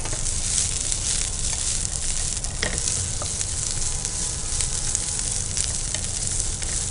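Vegetables for veg pulao fry lightly in a pan with a steady, close sizzle and occasional stirring scrapes, with no talking.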